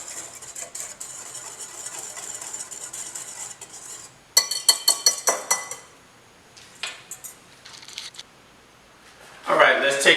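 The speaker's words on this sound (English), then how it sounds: "let's give it a whisk to kind of mix your seasonings all up in the flour" A whisk mixes seasonings into flour in a bowl with a quick run of rhythmic clinking and scraping taps against the side, close and clear, followed by a few scattered knocks, with a person talking nearby.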